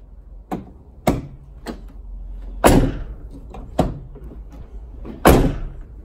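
A car door whose handle has just been replaced is shut repeatedly, giving about six or seven sharp thuds and slams at uneven intervals, some heavier than others, with quiet moments in between.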